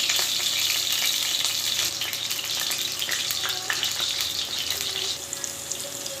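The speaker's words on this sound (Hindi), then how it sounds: "प्याज फ्राई हो रहे हैं" Onions frying in hot cooking oil in a kadai while making Afghani daal mash give a steady, loud sizzle and crackle that carries on unbroken, with no talking over it.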